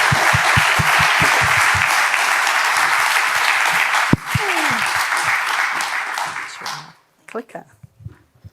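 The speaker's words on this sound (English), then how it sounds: "Can we give a round of applause for Rachel as she comes to the stage?" An audience claps warmly as a presenter named Rachel walks up to the stage at a design conference, a dense burst of applause that fades out after several seconds, followed by faint footsteps and shuffling.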